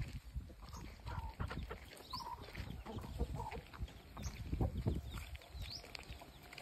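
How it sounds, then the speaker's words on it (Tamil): Chickens cluck and chatter on a small farm planted with sugarcane and banana, scattered close calls over a quiet, faint background of rustling. "கோழிகள்,"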